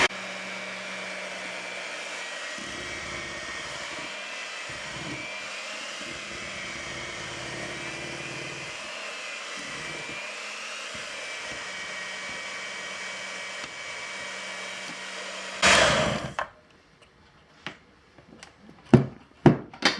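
An electric mixer drones steadily for about fifteen seconds while blending thick pound cake batter, its pitch wavering slightly, before cutting off and leaving a few clicks and knocks of utensils against the bowl.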